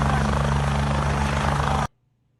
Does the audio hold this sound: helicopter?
yes